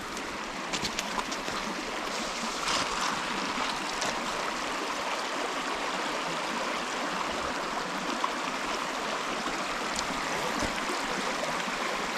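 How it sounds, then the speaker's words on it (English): A shallow, muddy creek runs steadily nearby, a continuous broadband rush of flowing water with occasional small splashes and clicks, heard alone without voices. "Don't know if I'm gonna be able to cross this creek."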